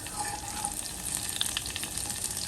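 Garlic frying in a pan for dried molokhia, with a steady close sizzle and crackle and light stirring, continuous and fairly loud, with no talk.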